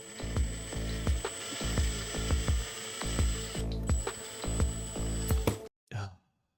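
A hand drill bores through a hollow sci-fi model part, giving a rhythmic series of sharp clicking, ratcheting turns at close range before it stops abruptly, followed by a brief last burst.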